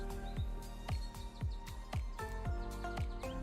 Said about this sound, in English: All right, so you have the bird sounds.